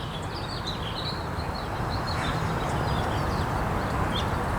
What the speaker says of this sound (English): It's as simple as hearing the birds